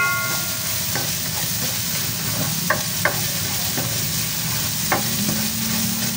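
Chopped garlic and ginger frying in a pan for Ilocano chicken with bagoong and sotanghon: a steady loud sizzle throughout, with a few scattered utensil taps against the pan.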